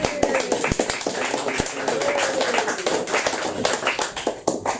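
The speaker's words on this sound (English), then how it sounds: "More applause, please, for Lisa Kelly." Audience applause for poet Lisa Kelly at a poetry reading, a sustained crackle of many hands clapping close by with a few sharper individual claps standing out, fading slightly near the end.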